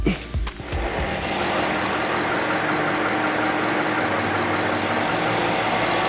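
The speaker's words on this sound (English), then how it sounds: "Since this vehicle is hot, we will crank it and check it." A hot vehicle engine at operating temperature cranks with a quick whirring starter burst, catches, and settles into a steady, loud, even idle that runs on without change.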